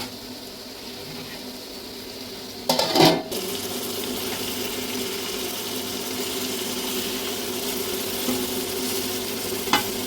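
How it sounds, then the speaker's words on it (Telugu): Chanduva fish cooking in hot oil in a pan, a continuous close sizzle with a brief loud spattering burst early on, then steady frying with no voices. "వీటిని కాసేపు ఆయిల్లో మగ్గనిద్దామండి"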